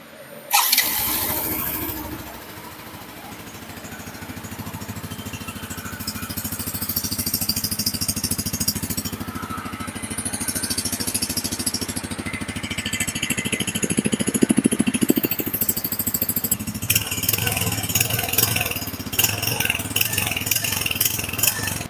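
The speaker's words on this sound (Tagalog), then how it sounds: "Push start lang. Yan, napakatahimik ng kanyang makina." A motorcycle engine catches on a push start and settles into a steady, low, fairly quiet idle that runs on with slight changes in tone, without talk over it.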